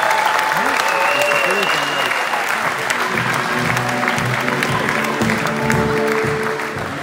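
Arena crowd applauding steadily for a basketball final, a dense, loud wash of clapping with cheers and whistles mixed in that holds for the whole stretch and eases slightly at the end, with voices audible under it.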